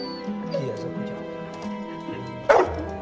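A dog in a movie yips and whimpers faintly, then gives one sharp bark near the end, set against background music with voices talking.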